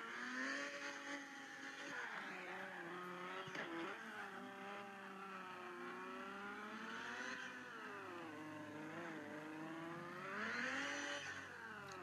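Honda NSX racing laps in a video game, its engine droning steadily at high revs with rising and falling pitch through gear changes and corners, loud and continuous, with faint tyre squeal.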